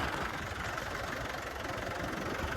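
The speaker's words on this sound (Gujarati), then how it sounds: "આ ટ્રેક્ટર છે ને ભૂચુક બહુ થાય એટલે આપણાથી હાલે નહીં" A farm tractor's engine idles steadily in the open, a low continuous rumble with an even, slightly knocking texture and no voices over it.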